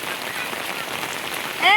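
Steady rain pours outdoors in a village, a dense even hiss of drops on surfaces throughout, with a brief high bird-like chirp near the end.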